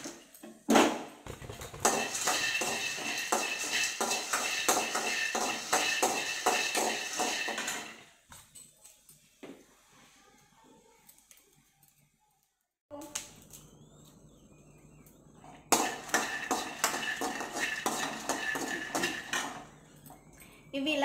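Peanuts being dry-roasted and stirred in a pan, with clattering, scraping strokes that come in long busy stretches, broken by a quiet pause before the stirring resumes.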